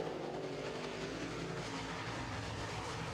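Late model stock cars race around an oval track in a feature event, a steady broadband engine roar holding constant throughout with a low rumble underneath, no voices.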